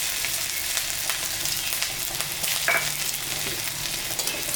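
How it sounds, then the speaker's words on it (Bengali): Chopped ginger dropped into hot tempering oil, already seasoned with radhuni and dried chillies after frying fish, sizzles steadily with a few stirring scrapes and brief spatters, fairly close and unvoiced. "একটু আদা কুচি দিয়ে দিলাম"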